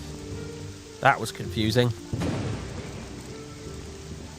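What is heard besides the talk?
rain and thunder in the video game Morrowind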